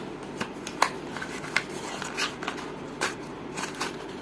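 Crinkling and tearing of packaging while a 30-pin USB cable for an iPhone 4S is unboxed, with scattered sharp crackles and rustles at close range over a quiet background.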